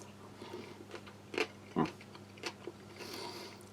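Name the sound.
crunchy chewing of pickled radish with rice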